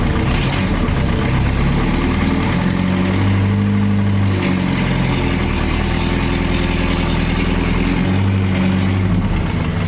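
A restored 1960 Mercedes-Benz 190B, started after 50 years, runs with a loud, steady engine drone. The pitch shifts slightly as it idles and is put into gear, with no voices heard.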